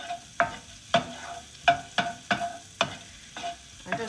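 Garlic sizzling in a hot pan while being stirred and tossed, with about eight distinct scraping clatters at a steady rhythm over the frying hiss, close up and with no talking.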